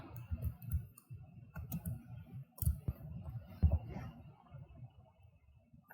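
Mouse clicks while navigating menus in Excel, a series of light, close, sharp ticks at irregular intervals over a quiet background.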